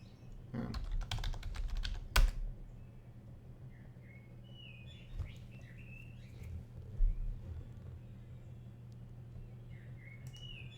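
A password is typed on a computer keyboard, a quick flurry of light key clicks with a few scattered taps after it. Faint birds chirp in the quiet room background.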